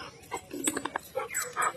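A Labrador dog whimpers close by, letting out a quick series of short, high, wavering whines over less than two seconds in a quiet room.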